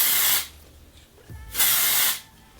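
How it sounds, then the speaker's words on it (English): Two bursts of matte texture spray misted onto curly hair from an aerosol can, each a loud hiss lasting about half a second, separated by a short quiet pause. "Once I've flounced the curls up, I just take the spray"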